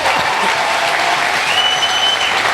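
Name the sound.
congregation clapping for Jesus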